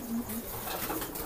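Soft pigeon cooing rises and falls over a dense, noisy background of ambient chatter and rustling, the low coo repeating briefly.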